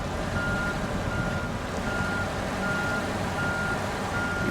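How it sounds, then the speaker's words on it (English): Truck with a trailer reversing in the off-road driving game SnowRunner, a steady engine drone under a faint repeating reversing beep, continuous and fairly loud, with no voices. "let's jackknife the trailer and reverse out"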